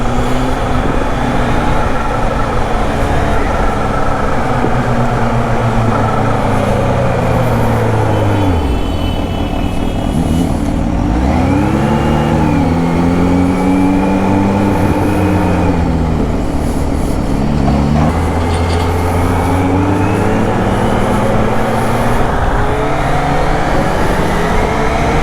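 Supercharged 2021 Kawasaki ZH2 motorcycle being ridden, a loud, close engine that climbs and drops through several gear changes in a continuous whining roar with wind rush, and no talking.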